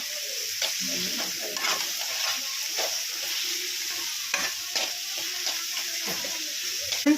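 Finely chopped large tomato stirred into a frying pan for a rice dish, with frequent close scraping and clattering strokes over a continuous sizzle. No voices.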